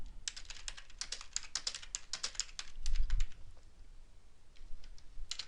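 Quick bursts of typing on a computer keyboard, keys clicking in irregular runs with short pauses, close and fairly quiet, with no talking.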